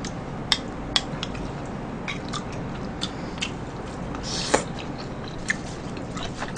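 Close chewing and biting while eating budae jjigae with glass noodles and ham, with sharp clinks of cutlery against dishes scattered over a steady background.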